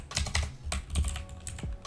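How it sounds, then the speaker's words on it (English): Rapid clicking of computer keyboard keys in short irregular bursts, close and fairly quiet, with no voices, while a Photoshop tutorial is being typed. "I'm just typing in two-tone because I know I got one made"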